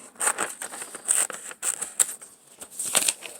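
Scissors snip through paper during a found-object seascape craft, several crisp close cuts in an uneven rhythm with rustling paper between them.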